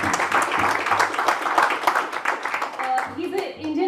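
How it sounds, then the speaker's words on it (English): Audience applause for the chief guest, film director Subhash Ghai, at a book launch event, with clapping hands mixed under a speaking voice and fading as talk takes over near the end. "Let's have a round of applause for Mr. Subhash Ghai, our chief guest"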